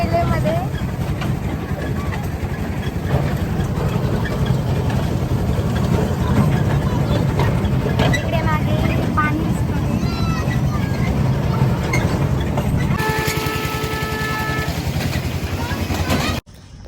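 A steady low rumble of a moving train carries throughout, in Jalna, India, with voices talking over it and a brief tonal horn-like sound near the end.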